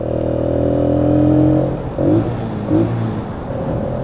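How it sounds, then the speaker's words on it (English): A Keeway K Lite 125 motorcycle exhaust revs up and holds a steady drone, then drops with two short blips of the throttle, heard close and fairly loud. "it doesn't sound too bad, the little rev bomb there"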